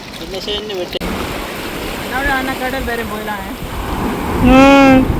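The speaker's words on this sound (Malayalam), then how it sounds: "കടലടിച്ച് വരുന്ന കണ്ടോ" A broad, continuous roar of sea surf crashing on a Lakshadweep shore washes in and swells louder toward the end, with voices calling over the noise.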